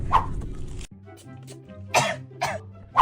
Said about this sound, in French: Tu tousses, ma chérie?